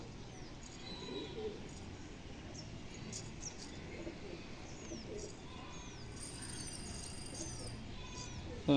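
Pigeons, including females, coo softly at a loft over a low murmur of background noise, with faint chirps scattered throughout.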